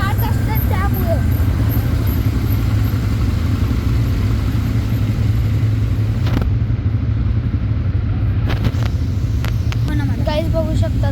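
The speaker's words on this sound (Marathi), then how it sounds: "इथं आवाज पण खूप येतो. गाड्या स्टार्ट असतात त्यामुळं" Car engines idle and run loudly at a Dubai desert safari camp, a dense continuous motor rumble with clattering and occasional revving while a person talks over it.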